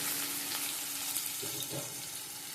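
Onions, green chilies and curry leaves frying in hot oil, a steady close sizzle with faint stirring, no voices.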